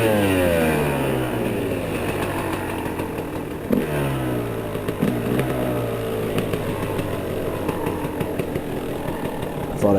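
A Kawasaki KLX dirt bike engine drones loud and close while riding down a snowy old logging trail, its revs rising and falling with bursts of throttle and a few knocks from the terrain.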